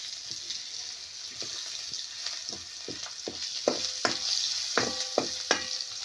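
Cumin and turmeric tempering in hot oil for a Maharashtrian moong dal varan make a continuous soft sizzle, punctuated by a run of rhythmic metallic scraping clinks from stirring that grow a little louder toward the end.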